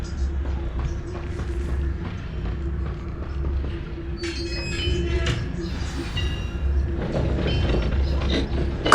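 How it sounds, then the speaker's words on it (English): Mine carts in the Hogwarts Legacy video game roll back along their track with a low steady rumble and rattling wheels, joined by clanking metallic bumps partway through, moderately loud over a faint background score. "The carts are returning to Arn."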